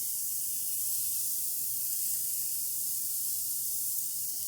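Garlic and parsley sizzling in a hot pan with onions for a quick stew, a steady broadband hiss and spatter holding at an even level throughout, with no talking.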